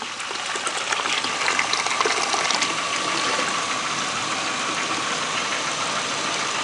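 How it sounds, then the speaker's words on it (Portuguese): Dirty water gushing out of the cooling system of a 2006 Renault Clio 1.0 8v D7D during a flush, a steady loud rushing flow with an engine running underneath, continuous and close. "A água tá saindo bem suja ainda."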